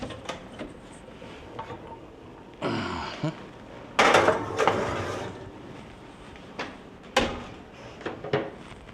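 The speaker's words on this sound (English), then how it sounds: "Okay, in the oven it goes." Metal clatters and scrapes as a heavy pot of sauerbraten slides into an oven, followed by a clunk like the door shutting, with faint background noise.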